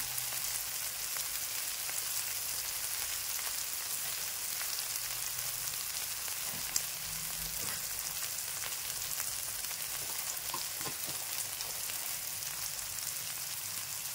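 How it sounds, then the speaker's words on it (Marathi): Tomatoes fry in a pan with a steady, even sizzle that holds at moderate loudness throughout, punctuated by a few faint stirring taps, with no voices. "टोमॅटो चांगला फ्राय होत आहे"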